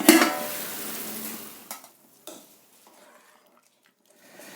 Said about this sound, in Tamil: இப்போ நான் மூடியை திறந்து அரிசியை போடுறேன்.